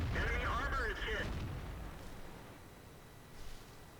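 A tank cannon fires in World of Tanks while driving an IS heavy tank, a loud booming blast at the start that rolls off into a fading low rumble, with a brief radio-style voice over it.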